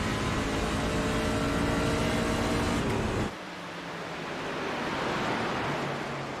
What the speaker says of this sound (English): There is the upshift.